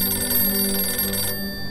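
A telephone rings in the horror video game Angst, a sustained electronic ring tone that stops abruptly near the end.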